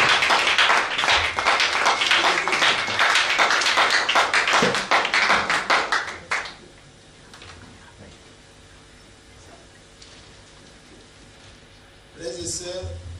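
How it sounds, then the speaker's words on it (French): A church congregation claps loudly in a dense, sustained burst of applause for about six seconds, then it drops away to quiet room tone before a short sound returns near the end. "Acclamez très fort."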